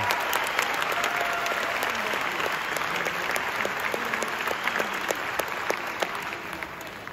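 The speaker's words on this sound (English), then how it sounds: "And since you're in the clapping mood" Live concert audience applauding steadily after a percussion performance, dense sustained clapping throughout with a few sharper claps standing out, no talk over it.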